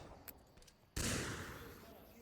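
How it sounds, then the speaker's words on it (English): Flashbangs and grenades in the Onward VR video game: after a few faint clicks, one sudden loud blast hits and trails off into a long rumbling decay. "Some flashes and some nades go out"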